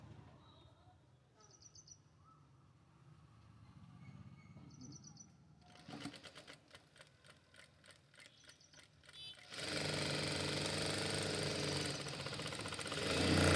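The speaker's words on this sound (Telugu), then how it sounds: "ఇలా మనం స్టిచ్చింగ్ చేసేసుకోవాలి." A sewing machine stitches a blouse, first faintly under some background noise, then in a louder rapid mechanical run of stitching that grows to a steady whir near the end; no talk.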